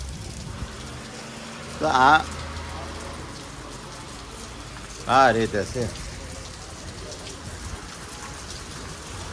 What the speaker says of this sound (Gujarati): વરસાદ બહુ સારો મારો ચાલુ થઈ ગયો